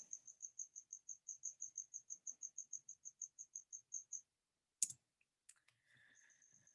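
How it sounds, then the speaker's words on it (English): A cricket chirps indoors in a room, a steady run of about twenty-five evenly spaced, fairly close chirps, then a sharp click and some faint rustling after the chirping stops. "There's a cricket in my room. Can you guys hear it?"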